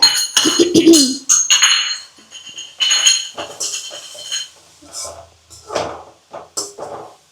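Beetroot palya being stirred in a pan, with a spoon clinking and scraping against the metal in irregular bursts, fairly close and loud.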